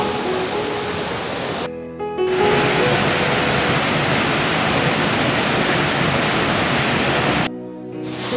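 A forest waterfall roaring as a steady, dense rush of falling water, loud and close, continuous for the whole stretch with two brief dips where the sound cuts out.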